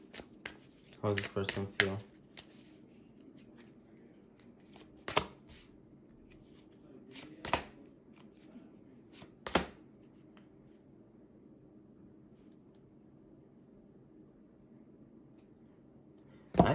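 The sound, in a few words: shuffling an oracle card deck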